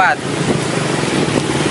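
Strong wind and rain during a flash-flood storm roar steadily as broadband rushing noise, loud and close to the microphone with buffeting gusts, and no clear voices come through.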